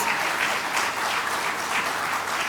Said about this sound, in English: Yeah, friends, big round of applause again.